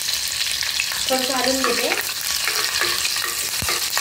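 Crushed garlic cloves and green chillies fry in hot oil for a shrimp kolim dish, a continuous close sizzle with stirring, while someone speaks briefly over it.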